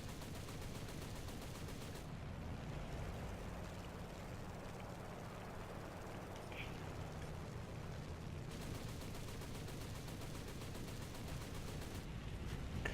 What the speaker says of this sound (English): Nice little strafe run there